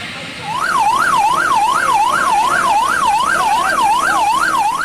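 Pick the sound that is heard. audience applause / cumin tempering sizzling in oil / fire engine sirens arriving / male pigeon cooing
fire engine sirens arriving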